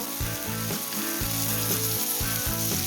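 Crispy Konkani-style pomfret fish frying in oil in a pan, a steady bright sizzle running under louder tonal music with a pulsing rhythm.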